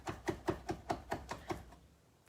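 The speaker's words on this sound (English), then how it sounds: "we're taking the flesh from the preserved lemons and chopping that" A knife chopping soft, mushy preserved lemon flesh on a board, about seven evenly spaced close knocks in a quick steady rhythm, then stopping, with no voices.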